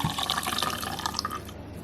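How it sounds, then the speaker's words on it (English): Half a stick of melted butter is poured into warm water in a kitchen, giving a steady, close liquid trickle and splash for nearly two seconds before trailing off. "In my warm water, I'm just going to go ahead and pour my half a stick of melted butter."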